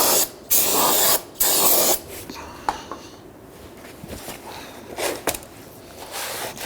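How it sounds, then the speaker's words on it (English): Several short hissing bursts of aerosol brake solvent sprayed onto a brake drum of a 1992-1996 Toyota Camry, two long blasts followed by quicker intermittent spritzes, close up with light clinks in between. "give it a good spray down with some brake solvent"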